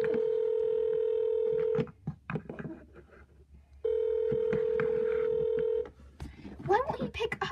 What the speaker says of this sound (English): The number you have dialed is not in service at this time.